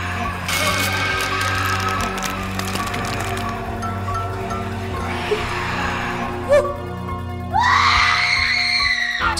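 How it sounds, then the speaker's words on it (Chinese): A woman screams in a dim morgue setting, high wailing cries rising loudly near the end over a low droning hum and clattering of a storage drawer. "这一声尖叫被另一个同事听到了"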